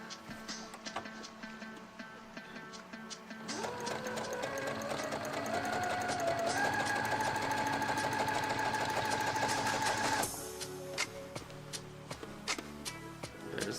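A sewing machine stitches medical scrubs with a steady, rapid mechanical whirr and clatter that rises in pitch midway, then drops back to lighter clicking.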